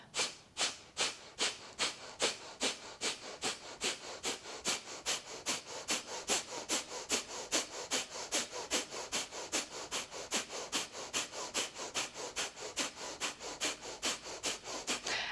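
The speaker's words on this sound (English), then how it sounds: "Fire breath." Rapid rhythmic yoga fire breath, a long run of quick forceful nasal exhales in an even steady pulse, close and fairly loud, with no talking.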